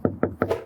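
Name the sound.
knocking on RV fiberglass exterior panel, tap test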